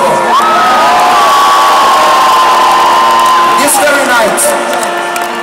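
Huge arena crowd at a concert cheering and screaming in a loud sustained roar, with whoops rising above the din throughout.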